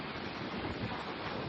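Sea waves at the Kanyakumari shore where three seas meet, a faint, steady wash of surf blended with wind rumble, continuous and distant without distinct breaks.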